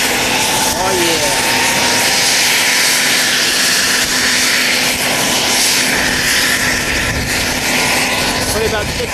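Army Black Hawk helicopter starting up at Rocky Mountain Metropolitan Airport, a loud continuous turbine whine and engine roar filling the whole clip close by, with people talking faintly underneath.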